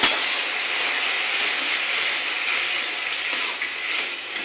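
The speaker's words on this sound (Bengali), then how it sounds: "মটরের সিদ্ধ করা জলটা দিয়ে দিচ্ছি।" Boiled pea water pours into a hot pan while cooking chana paneer gravy, giving a steady, loud sizzling hiss that holds evenly for the whole stretch.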